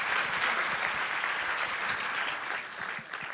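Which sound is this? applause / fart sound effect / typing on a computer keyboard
applause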